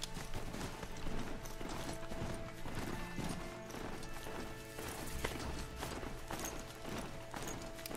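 Steady clip-clopping hooves from a robot horse in Horizon Zero Dawn trot along without a break, over a bed of tonal background sound effects.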